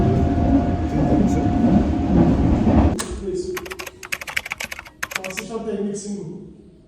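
Interior of a moving train, a steady low rumbling roar that shifts partway through into rhythmic clicking and clattering of the wheels over the rails, with faint background voices.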